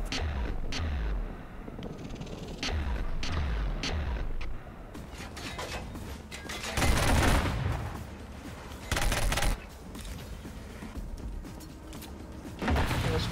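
Gunfire from a shield-breaking gun in the shooter Killzone: Shadow Fall comes in bursts of sharp, heavy shots, some clustered and some isolated, with mechanical clanks between them and a few louder blasts toward the middle and end.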